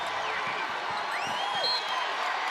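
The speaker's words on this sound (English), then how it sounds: "The crowd is into it" Basketball arena crowd at a women's college game, steady broad roar of cheering with scattered whoops rising over it, sustained throughout.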